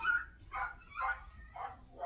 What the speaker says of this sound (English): Dogs freaking out about something